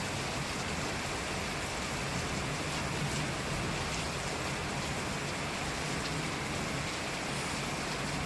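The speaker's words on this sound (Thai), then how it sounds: "นอนฟังเสียงฝน" Steady rain falls outside a back room of a house, a dense, even hiss and patter that stays constant throughout at a soft, close level with no voices.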